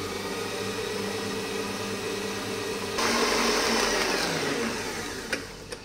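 An electric hand mixer whirs steadily as it beats cream with condensed milk and lemon juice for a lemon cake, a constant motor drone that rises slightly in pitch midway, with a couple of light knocks near the end.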